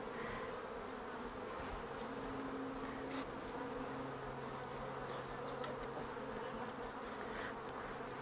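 Honey bees swarm around an opened backyard hive during an inspection, a dense, continuous buzzing drone close at hand, with individual bees whining past now and then.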